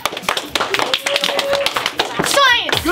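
Children clap and cheer at a classroom engineering challenge after building a taped table, sharp hand claps mixing with excited kids' voices, and a squealing shout near the end.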